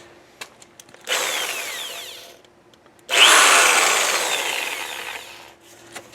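Two bursts of a power drill grinding into 5-inch-thick concrete, the second longer and louder, separated by a brief pause, with no talking.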